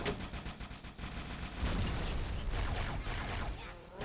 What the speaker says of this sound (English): Wasn't expecting that grunt to shoot at me like that.